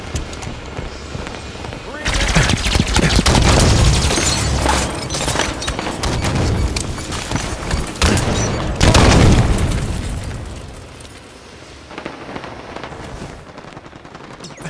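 Heavy gunfire and explosions in the Halo 5: Guardians video game: dense bursts of automatic fire and booming blasts, loud and close, fading to scattered shots in a quieter stretch near the end.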